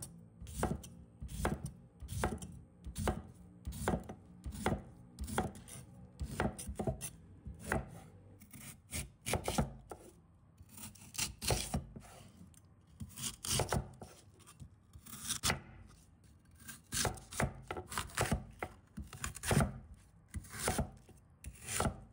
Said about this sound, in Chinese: 然后把它们切成小块。